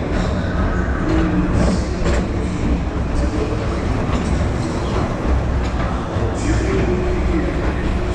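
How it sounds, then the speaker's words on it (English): The Tomorrowland Transit Authority PeopleMover train rolls along steadily with a constant rumble and faint rhythmic clacking of wheels, loud and continuous, with occasional squeaks. "your express train keeps on rolling through the future"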